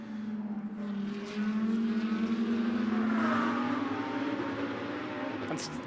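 An Audi GT2 race car at full speed at the Imola circuit, its engine a steady rising drone held loud and close for several seconds as it accelerates, with faint commentary underneath.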